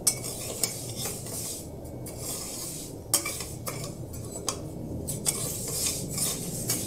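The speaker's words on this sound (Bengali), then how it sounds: "শুকনো কড়াইতে ডালগুলো আমি ভাজবো।" Mung dal dry-roasting in a dry wok with no oil, stirred with a utensil: steady soft scraping and rustling of the grains with repeated light metallic clinks, close and continuous, no talk.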